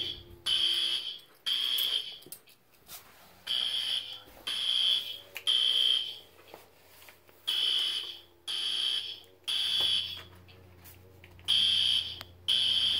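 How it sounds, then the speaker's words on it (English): A fire alarm blares in repeated shrill, high-pitched bursts with short gaps, loud and steady in rhythm over a low background hum. "We still got this fire alarm."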